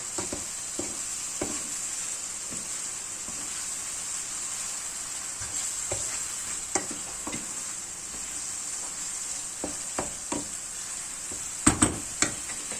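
Moussaka filling is stirred in a frying pan, giving a steady soft sizzle with scattered light scraping clicks and taps from the utensil, and no voices.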